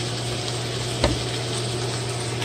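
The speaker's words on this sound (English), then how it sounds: "So now we're going to add our garlic." Garlic, four cloves' worth, goes into a hot frying pan already sizzling with food, giving a steady close crackle with one brief louder hiss and clatter as it lands.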